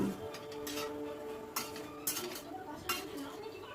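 A spoon scrapes and clinks against a pan while okra and vegetables are stirred, giving soft, irregular knocks and scraping strokes with a few sharper taps, close and fairly quiet.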